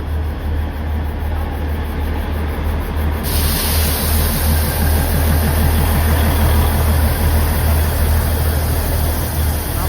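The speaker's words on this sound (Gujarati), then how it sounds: "ટ્રેન આવી ગઈ છે" A small train's engine idles at a station on the Matheran route, a steady low rumble with a continuous hiss, loud and close throughout with no talk.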